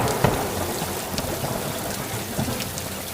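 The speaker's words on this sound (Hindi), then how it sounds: "सावन की पहली बारिश शुरू हो चुकी थी।" Steady rain hisses down with scattered drops and soft crackles, a low rumble underneath, no voices.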